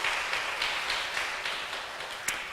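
A church congregation claps during a Sunday worship service, a steady round of applause from the gathered worshippers with a few sharper claps standing out, moderately loud and continuous.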